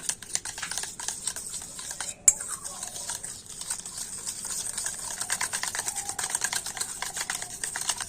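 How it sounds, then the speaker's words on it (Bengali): Eggs and powdered sugar whisked briskly in a bowl, a fast continuous metallic clatter and swish that runs steadily throughout, with one sharp knock partway through. "এবার আমি ডিম আর গুঁড়ো চিনিটা তো একটু ভালো করে ফেটিয়ে নেব"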